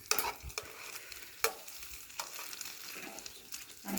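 Bacon slices frying in a pan at a guide camp breakfast, a steady crackling sizzle with occasional sharp pops and scraping stirs, close and alone without talk.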